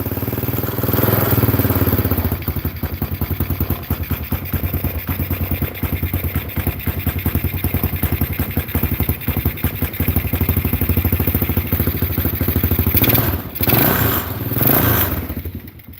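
A Tao Motors vehicle engine runs with its carburetor, revving up and down in a loud, close, rapid buzzing putter with steady firing pulses and a few surges of throttle near the end.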